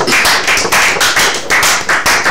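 Rhythmic, unified clapping from an audience applauding a singer, loud and close with regular beats and no talk over it.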